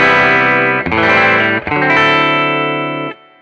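A clean electric guitar with Kinman SurfMaster zero-hum pickups in a Jazzmaster-style guitar, through a clean Vibrolux amp model, rings out in sustained chords, with two brief breaks before the notes fade out near the end.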